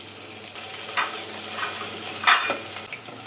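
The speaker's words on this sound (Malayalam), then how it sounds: "ജസ്റ്റ് ഒന്ന് ട്രാൻസ്പെറൻ്റായി വരുന്നവരെ ഒന്ന് വഴറ്റിയെടുക്കാം" Sliced onion, green chili and curry leaves sautéing in a pan, soft sizzle with intermittent scraping stirs of a spoon, a few louder strokes, close and alone.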